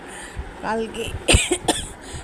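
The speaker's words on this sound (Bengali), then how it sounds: "কাশিটা বেড়ে যাচ্ছে আবার" Several harsh coughs mixed with throaty vocal sounds, close up, in a short burst toward the middle over a low background hum.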